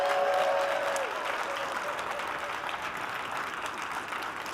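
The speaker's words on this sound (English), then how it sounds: "Can we give the staff a round of applause," A large conference crowd at a Creating Change general session applauds the staff, a broad, continuous roar of clapping hands with a few whoops, steady and full from start to finish.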